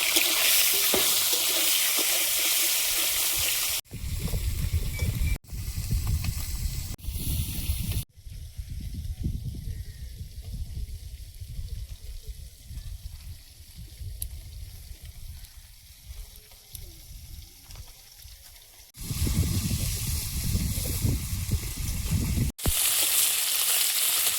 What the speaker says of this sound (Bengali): পুরো মাছ কটা ভেজে নেব।